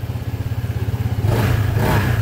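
A Honda ADV 160 scooter engine putters at idle, then revs up in a rising, louder burst with some rattle, heard close by.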